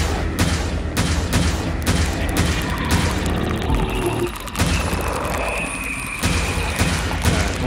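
Rapid, dense gunfire from the video game Devil Daggers rattles on continuously, layered with booming impacts and creature noise, loud and unbroken for several seconds.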